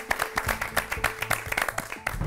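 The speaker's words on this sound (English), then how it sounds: "you all deserve a warm round of applause." A small studio group on a cooking-competition show claps warmly for the contestants, with distinct, fairly regular hand claps close by and a low hum underneath.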